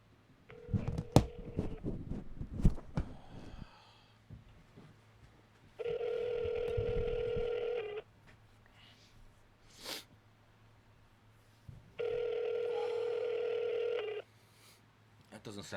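A faulty phone plays two separate bursts of steady dial and dialing tones, each lasting about two seconds, after a stretch of clattering handling noise at the start and under a low constant hum.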